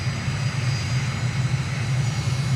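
Airplane on a slow approach to landing near Ho Chi Minh City, Vietnam, in Microsoft Flight Simulator, a steady loud engine drone with a low rumble and a constant hiss, without talk.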